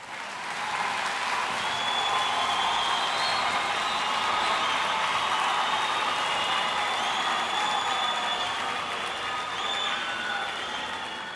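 Large audience applauding at a peace education day event, a broad, continuous roar of clapping that rises quickly and stays full and even, with faint cheering tones drifting through.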